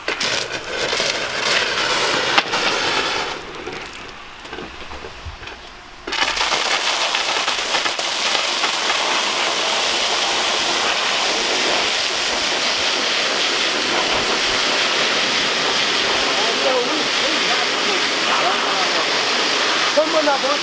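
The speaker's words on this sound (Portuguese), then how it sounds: "Bom, sai um jatinho bom de água, né?" A strong jet of water sprays from a hose nozzle with a pressure regulator on a family vegetable farm, a loud steady hiss that dips briefly, then runs on unbroken.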